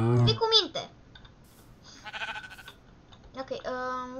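Sheep in the game Minecraft bleat in short, close calls between stretches of mouse and keyboard clicking, with a player's voice speaking over parts of it.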